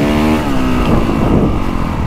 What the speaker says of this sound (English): These bikes always had the fun engine, and they have that smaller intake and this smoother power.